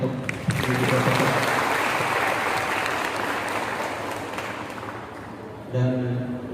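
Warm applause from a campus arts-show audience for a lecturer: steady, close clapping that swells at the start, holds for several seconds, then thins out as a voice begins speaking.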